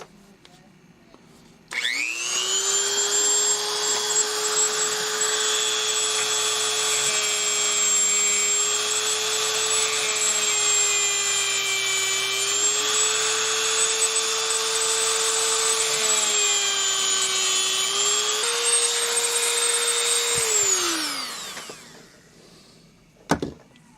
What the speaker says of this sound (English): Now we're going to use this polishing wheel here. This is a real fine wheel, and polish this surface right here.